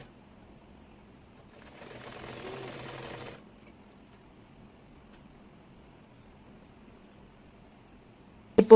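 A sewing machine runs one short burst of about a second and a half, stitching folded hijab fabric; it is faint and steady, surrounded by near silence, with a sharp knock at the very end.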